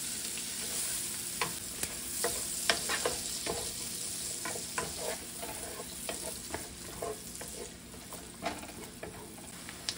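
Garlic and onions fry in a pan for shrimp and asparagus, a steady sizzle broken by repeated clicks and scrapes of stirring, moderately quiet with no voices.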